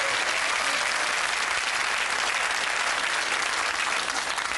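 A game show studio audience gives a steady, even round of applause, moderately loud and with no talk over it, for the whole stretch.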